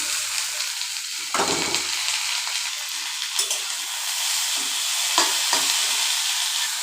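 Boiled lesra fruit frying with onion in a pan, giving a continuous hissing sizzle broken by a few louder knocks and scrapes of stirring.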